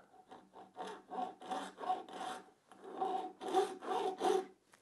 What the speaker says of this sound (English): I'm just going to cut this off with a hacksaw by hand and just hope for the best.